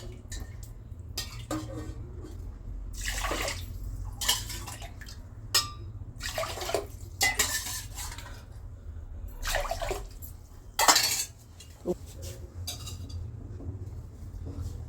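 Rice and lentils being washed in water for pongal: intermittent splashing, sloshing and swishing bursts with small clinks of a vessel, close by over a steady low hum.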